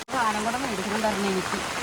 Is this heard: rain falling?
yes